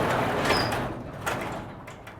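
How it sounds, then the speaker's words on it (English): A garage door is hauled open by hand with a hard pull, giving a loud, sustained scraping, rolling rumble with a short metallic squeal, up close and with no talking. "a garage door that doesn't open"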